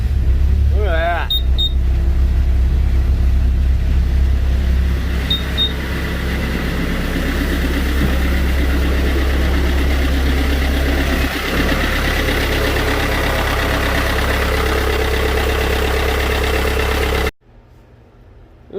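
A portable tire inflator runs with a loud, steady mechanical drone while filling a tire from 0 to 35 PSI, then cuts off abruptly near the end.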